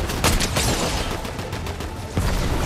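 Dense, rapid gunfire in a Fortnite match, a loud continuous volley of shots with brief bursts standing out, close and heavy throughout.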